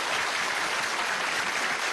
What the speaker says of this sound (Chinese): 为自己鼓鼓掌啦